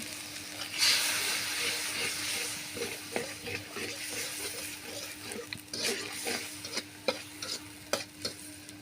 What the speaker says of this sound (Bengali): সামান্য একটু জল দিতে হবে মশলাটা কষানোর জন্য।